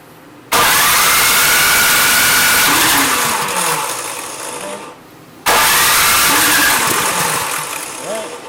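Cub Cadet, Troy-Bilt, Craftsman or MTD-type snow blower engine cranking and catching twice, each time roaring loudly and then sagging and dying, with a short silence between attempts.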